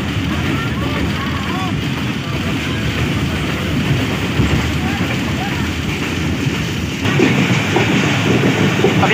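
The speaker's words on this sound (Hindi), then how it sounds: "बड़ा खूबसूरत सा ट्रैक साउंड है" Steady clattering of train wheels on the track, loud and close, with continuous rumble and wind noise throughout, on a train approaching Muzaffargarh station between Multan and Sanawan in Pakistan.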